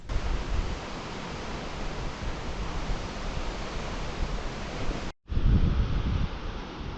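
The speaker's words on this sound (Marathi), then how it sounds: "वारं पण आलेलं आहे आता साथीला" Wind gusts across the microphone at a scenic outdoor viewpoint, a steady broadband rushing roar with buffeting at the start and after a brief dropout near the end.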